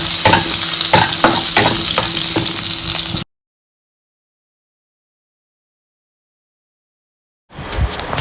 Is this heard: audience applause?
no